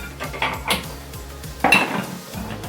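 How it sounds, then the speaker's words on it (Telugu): A metal pan is set down on a kitchen stove, giving a few clanking knocks and scrapes of cookware, close and fairly loud, with no talking. "స్టవ్ వెలిగించుకున్నాం కదండి ప్యాన్ పెట్టుకుందాం"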